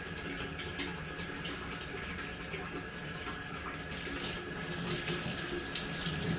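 Steady running water from a tap, a continuous close rushing splash with no pauses, like a faucet left on over a sink.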